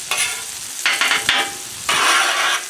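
Smash burgers and onions sizzle on a Blackstone griddle, with steady frying hiss broken by a few louder bursts of sizzle and scraping.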